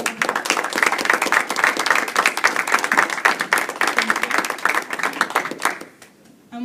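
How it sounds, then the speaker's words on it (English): An audience at a college vice presidential candidates' debate breaks into sustained, dense applause that fades out over the last second, with a voice faintly present underneath. "Give them one more round of applause"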